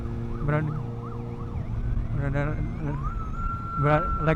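Wailing police escort sirens rise and fall repeatedly nearby with road traffic noise in Malaysia, and a voice is heard briefly beneath the sirens.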